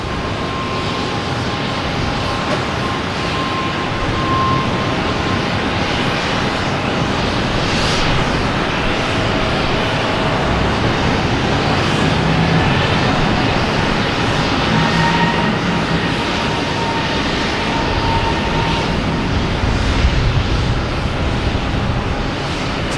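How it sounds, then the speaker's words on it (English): An Air France jet airliner departing for Paris roars loudly and continuously from Boston Logan, a dense sustained engine rumble and rush that holds strong throughout, with no voices. "got Air France heading back to Paris"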